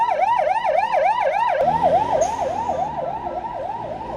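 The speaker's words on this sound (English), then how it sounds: "Of course, the ambulance has a dump valve." An ambulance siren wails loudly in a steady rising-and-falling yelp on a city road, Sukhumvit Road, with a short burst of a dump valve's air release partway through as the siren keeps cycling over traffic.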